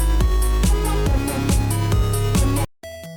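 Full mix of intro music for an indie video game named Godspeed, with punchy drums, a bright synth lead and a deep bass line playing together, loud and rhythmic, cutting off abruptly near the end.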